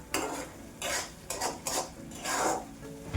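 A spatula stirs ground wet masala paste and spices in a pan for a drumstick curry, several rough scraping strokes close up over a low sizzle.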